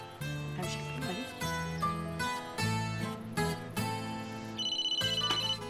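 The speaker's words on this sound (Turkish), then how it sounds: "Ben Fırat'ı arayayım hemen" A phone rings on an outgoing call, a steady electronic melodic tone that plays continuously and fairly quietly for several seconds with no voices.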